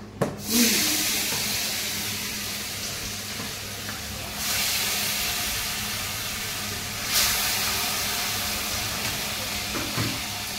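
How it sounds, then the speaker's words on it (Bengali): Turmeric-coated rohu fish pieces hiss and sizzle in hot oil, loud and close, with fresh surges of sizzling as more pieces drop into the pan and no voices. "হলুদ মাখানো মাছগুলো এক এক করে দিয়ে দেবো।"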